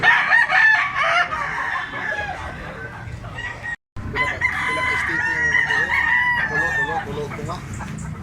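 A bullstag rooster crows loudly and repeatedly at close range, with clucking fowl around it and faint voices in the background.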